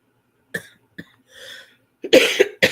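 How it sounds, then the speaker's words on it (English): A dry cough, a short hack followed by a harsher double cough near the end, close and loud with quiet gaps between. "I hate when I get that dry cough."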